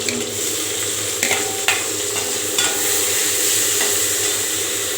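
Onions frying in a kadai with cloves, a bright continuous sizzle close by, with a few light scrapes and knocks of stirring and no voices.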